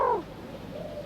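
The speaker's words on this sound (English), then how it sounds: "a bird in the background echoes his master's voice right on coup" A pet dove gives a soft coo that falls in pitch, then trails off into a faint, drawn-out tone against quiet background noise in Thailand.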